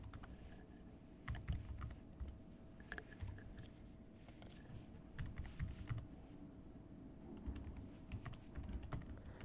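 A name is typed on a computer keyboard while filling in a staff profile, giving a steady run of quiet, close key clicks with brief pauses and no talking.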